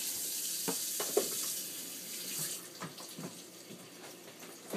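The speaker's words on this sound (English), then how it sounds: "You put a half a cup of water in here." Water runs steadily into a measuring cup, a soft continuous splashing trickle with a few faint clinks, fairly close and moderately quiet; half a cup of water for pie crust.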